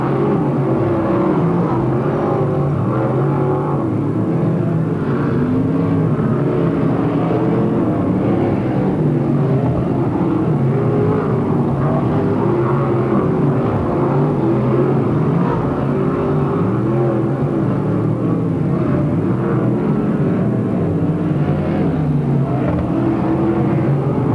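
360 sprint cars race around a dirt oval at Marysville, California, their engines a dense, continuous roar and rumble that stays loud and steady throughout, with no talk rising above it.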